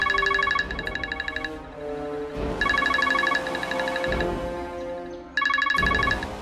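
A synthesized phone ringtone plays a bright, repeating melodic pattern in short bursts, clear and moderately loud with no voices.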